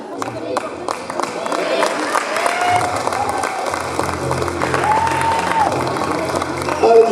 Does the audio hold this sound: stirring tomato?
no